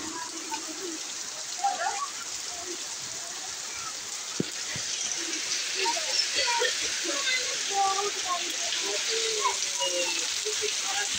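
Heavy monsoon rain pours steadily outside, a dense continuous hiss with scattered droplet patter that grows slightly stronger over time, with no voices heard.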